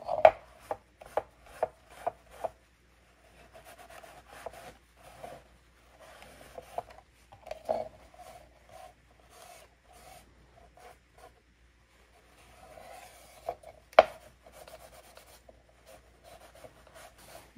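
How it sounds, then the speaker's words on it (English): Paper towel rubbing black wax onto thrifted furniture finished in Fusion paint, heard as soft scratchy strokes in short bursts and steady runs, close and quiet, with no one speaking. "I'm going to go in with some black wax just on a paper towel."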